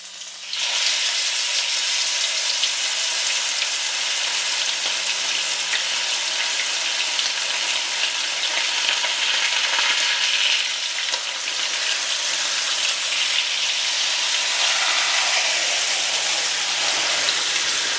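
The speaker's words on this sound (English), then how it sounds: "We're now going to brown our roast." Venison neck roast browning in olive oil in a pan over medium-high heat, a steady, loud, close sizzle and crackle of frying that continues without pause.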